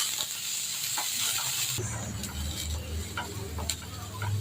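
Onions and split chilies sauté in a pan with a steady frying hiss, joined by scattered sharp crackles and ticks, close and fairly constant.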